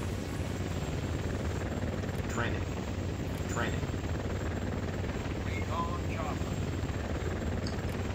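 A recon helicopter in the Command and Conquer Generals real-time strategy game, in the Zero Hour Cold War Crisis mod. Its steady rotor drone fills the whole stretch alongside game sounds, with short unit voice lines breaking in.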